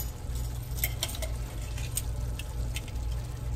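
Goulash ingredients being stirred in a pot, soft wet sloshing and light clinks of a utensil against the pot in an irregular rhythm over a low kitchen hum.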